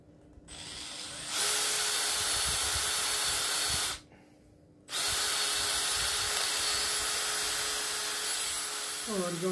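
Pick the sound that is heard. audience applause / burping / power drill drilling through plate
power drill drilling through plate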